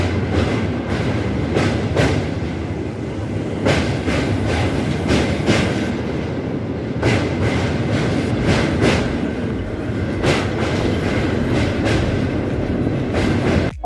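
A train rolls steadily along the rails on a trip near Kolkata toward Maithon, its loud continuous rumble broken by repeated rhythmic clickety-clack wheel beats heard from inside the carriage.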